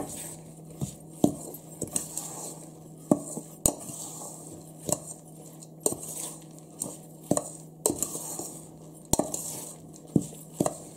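A spoon clinks and scrapes against a bowl while mixing cardamom powder with edible camphor, giving a sharp, irregular tapping close by with no talking.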